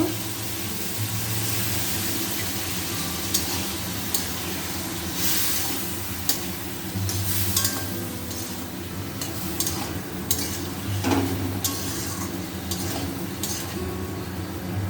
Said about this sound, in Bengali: মশলাটা ভাজা ভাজা করে নেব